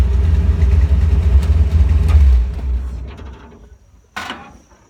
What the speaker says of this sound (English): Like I said, motor runs like a champ.